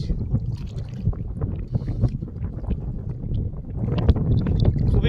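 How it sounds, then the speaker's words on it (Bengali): A strong westerly wind buffets the open air over the Brahmaputra River while a small hilsa fishing boat rocks on the waves, giving a loud, rumbling, continuous wash of wind and water with no talking. "পশ্চিমা বাতাস খুব চড়ছে নদীর ঢেউ দেখছেন কত ঢেউ"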